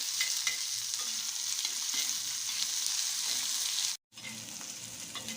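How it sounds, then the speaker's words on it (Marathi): Chopped onion frying in a pan for Marathi-style pea chutney, a continuous close hiss of sizzling oil with faint stirring scrapes, briefly cutting out near the end, with no voices. "हा कांदा टाकून घेऊ आपण कांदा आपल्याला असा लाल होऊन द्यायचा"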